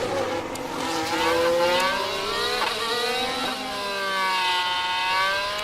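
Race car engine from the F1 Manager 2024 game on a flying qualifying lap at the Spanish Grand Prix, a steady high-pitched whine rising and falling through gear changes, with several cars layered over one another.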